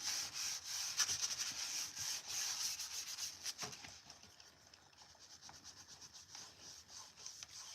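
A paper napkin rubs and blends paint across a salvaged vintage surface, giving close, quiet, scratchy strokes in an uneven rhythm that soften partway through.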